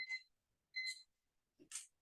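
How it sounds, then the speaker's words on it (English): An alarm gives three short, faint electronic beeps spaced about three-quarters of a second apart in a quiet meeting room. "alarm's on."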